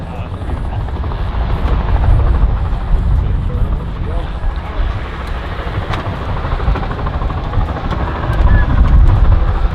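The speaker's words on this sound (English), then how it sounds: "But here's the chopper." Helicopter used for a hunt, its rotor thudding in a loud, steady throb up close for the whole stretch, swelling slightly at the start and end, with some talk underneath.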